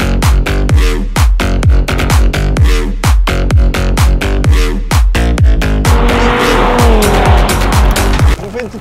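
A late-2017 Audi RS3 with 400 hp drives hard, its loud engine roaring close up with a rapid pulsing rhythm and tires squealing and skidding toward the end.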